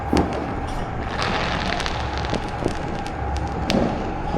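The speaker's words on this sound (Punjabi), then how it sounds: "ਹੁਣ ਜਿਸ ਤਰੀਕੇ ਦੇ ਨਾਲ ਪਟਾਕੇ ਚੱਲ ਰਹੇ ਆ" Firecrackers going off at night during a Diwali celebration in a Punjab village, a steady distant crackle with scattered sharper pops throughout, no talking.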